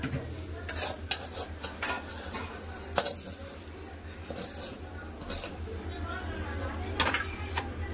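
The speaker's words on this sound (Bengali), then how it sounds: "আলু বরবটি ভেজে নামিয়ে নেবো, হয়ে গেছে।" Fried potatoes and long beans are stirred and scooped from a pan, with scraping and clinking of a utensil against the pan over a soft steady sizzle, sharper knocks standing out now and then.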